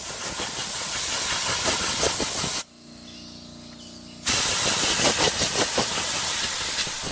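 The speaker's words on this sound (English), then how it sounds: "So I'm just going to kind of blow this off with a compressor" Compressed air blasts dirt off a cabin air filter from a 2021 Kia Forte in a loud, steady hiss. Two long bursts are split by a brief pause of low background hum.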